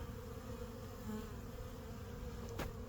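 Honeybees in a wooden hive with a mesh bottom give off a continuous low buzzing hum, steady and close, with a single faint click partway through.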